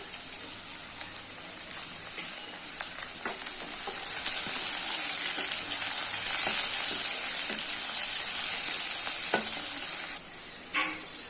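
Fennel seeds, sliced onion and curry leaves fry in hot oil for a mutton offal masala, giving a steady bright sizzle with occasional scrapes and clicks of a stirring spoon, close by and without speech.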